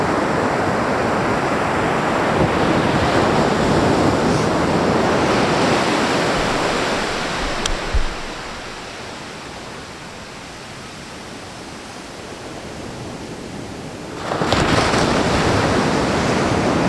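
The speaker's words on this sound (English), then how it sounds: "I'm going to quite enjoy just sitting here on the beach, listening to the waves crash" Waves crash and wash continuously onto a beach on the East Coast, a loud, broad roar of surf with wind buffeting the microphone, easing midway and then swelling again with a fresh breaker.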